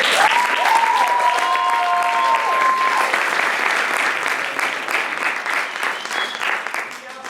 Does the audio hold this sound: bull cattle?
no